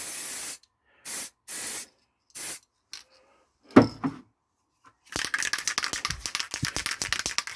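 Several short bursts from a gold spray paint can, then a rattle and clunk. A long spray with a fluttering hiss follows, close to the mic.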